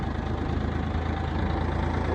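A farm tractor's engine idles at a potato farm, a steady, close diesel drone with a low throb that runs unbroken and alone throughout.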